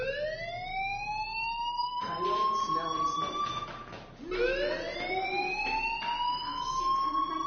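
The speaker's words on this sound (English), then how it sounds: "do you hear that fire alarm?" An electronic alarm with a wailing tone rings loudly and steadily throughout, its pitch rising and sweeping again partway through, with some background noise beneath it.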